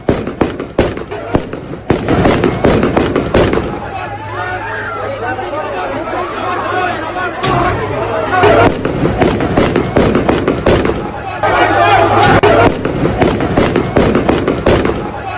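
Repeated rounds of gunfire at Kabul airport at night, sharp cracks rattling in bursts and single shots over a constant murmur of a large crowd, with voices and chatter throughout.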